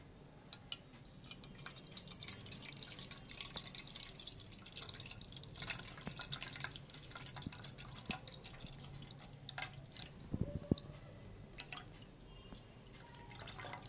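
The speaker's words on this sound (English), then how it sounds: "when I was pouring it" Juice poured from a Tetra Pak carton, a steady liquid trickle with dripping, heard close and continuous without talk.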